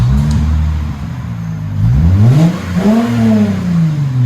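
A 2008 Lexus IS 250 with a 2.5L V6 and a Megan Racing aftermarket exhaust revs loudly and close up, its pitch dipping and then climbing through two throttle blips with no talking.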